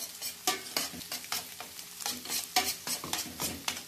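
Eggs beaten fast in a hot pan for Chinese fried rice, with quick rhythmic scraping strokes of a utensil over a steady sizzle, close and moderately quiet.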